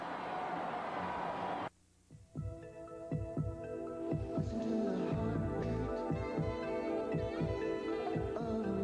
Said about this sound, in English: listen to your heartbeat